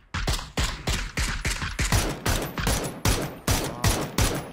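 Rapid gunfire in the battle royale video game PUBG, a steady string of loud, evenly spaced shots about every few tenths of a second, heard alone and up close.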